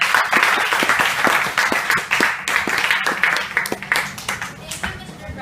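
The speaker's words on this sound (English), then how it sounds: "Once again, let us give a round of applause for all the speakers" A small audience at a workplace diversity training program applauds the speakers, distinct individual claps in a brisk uneven rhythm, fairly close, with a voice briefly speaking partway through.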